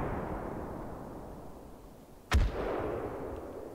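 An explosive shot from a weapon in a VR game: one sharp, loud blast with a deep low thump cutting through a steady background rumble, then fading quickly.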